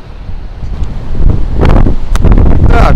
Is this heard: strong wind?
yes